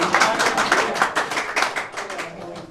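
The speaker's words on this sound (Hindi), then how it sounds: "ताली बजाइए।" A small group at a quiz event claps together, a bright, fairly near burst of brisk handclaps lasting a few seconds and tapering off toward the end.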